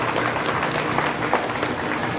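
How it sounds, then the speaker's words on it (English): A crowd in an arena applauds young exhibitors at a county fair beef show, with a steady wash of clapping that stays even and fairly loud for the whole stretch. "Let's give all these young exhibitors a round of applause."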